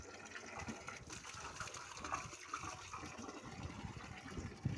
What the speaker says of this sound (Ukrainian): Це я воду набираю в бочку.